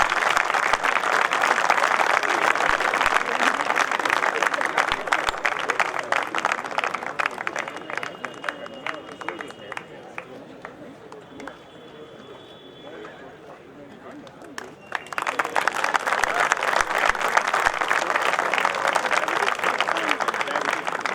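An audience in a university hall gives loud applause for a speaker, dense clapping that eases into a quieter stretch and then swells back to full strength.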